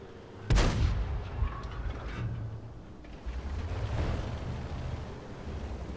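Tank gunfire in World of Tanks: a sharp, heavy blast near the start with a booming tail, then further duller thuds and a rumbling later shot over engine-like background noise, with no talk.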